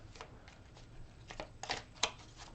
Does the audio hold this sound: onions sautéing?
no